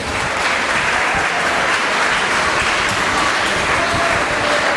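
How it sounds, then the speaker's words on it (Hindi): Sustained, dense applause from a live audience at a Hindi poetry gathering (kavi sammelan), steady and loud throughout with no pauses. "एक बार अपने लिए जोरदार तालियां बजा लें।"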